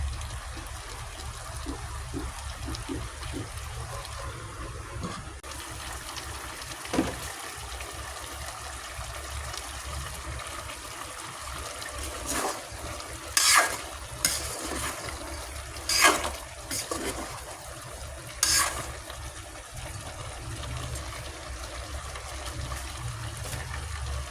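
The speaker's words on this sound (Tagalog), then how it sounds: "pakuluan muna ulit natin yan" A pot of malunggay (moringa) vegetable dish boils again on the stove, giving a steady low bubbling and watery trickle with a few brief clinks and splashes partway through.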